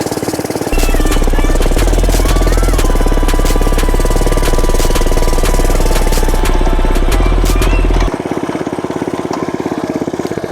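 Cheap mini bike engine from Amazon running close by, a loud rough chugging putter that holds steady for several seconds before dropping back to a quieter idle-like note.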